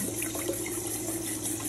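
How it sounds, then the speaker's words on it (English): Cold tap water runs steadily over cooked noodles, a continuous close splashing rush with no talk. "You're going to run cold water over it."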